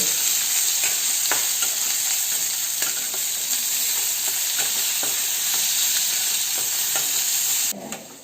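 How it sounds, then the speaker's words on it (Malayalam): Chopped onions fry in a pan with a loud, dense, continuous sizzle heard up close, broken by faint stirring scrapes, and no one speaks. "ഇനി ഇതിലോട്ട് നമുക്ക് സവാള കൊത്തി അരിഞ്ഞത് ഇട്ട് കൊടുക്കാം"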